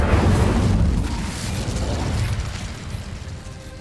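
An Incendio fire spell cast in the video game Hogwarts Legacy, a loud whooshing burst of flame that roars briefly and then fades into a crackling rumble.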